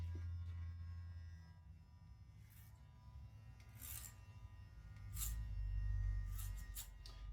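An electric hair clipper buzzes steadily at close range during a taper haircut, with brief scratchy bursts as it cuts through hair.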